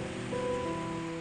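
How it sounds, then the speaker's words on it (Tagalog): Heavy rain pours in a steady, broadband roar that stays even throughout the short stretch, with a faint tonal hum running beneath it. "Lakas po ng ulan, mga kalingap."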